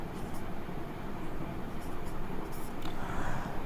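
Pen scratching on paper while writing out numbers for a maths probability problem, a steady faint scratching texture that runs the whole time under low room hum.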